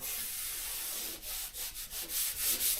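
Hand rubbing and sweeping over sanded body filler on a rusted Peugeot 206 wing, soft dry swishing strokes in an irregular rhythm, close and fairly quiet.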